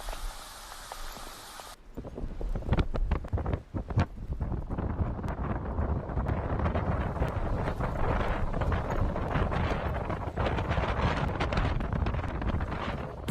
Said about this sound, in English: battering the region with relentless wind and torrential rain